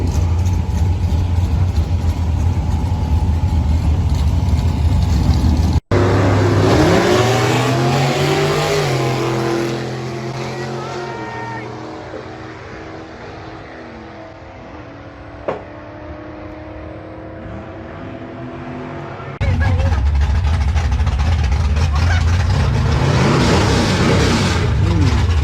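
A 1960s gasser drag car on the street revs hard, loud and close, its engine rising and falling in pitch through several throttle blips before easing to a lower rumble and then roaring again.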